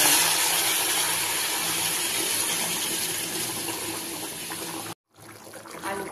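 Hot water poured from a vessel into a pan of potatoes for a cauliflower and potato curry, a steady rushing splash that stops abruptly before a softer trickle resumes.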